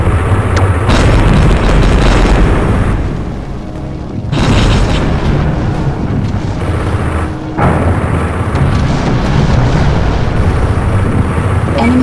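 Heavy booming blasts as an enemy target explodes in the mech combat game EarthSiege 2, loud sustained roaring detonations with a brief dip before the rumble surges back, continuing to the end.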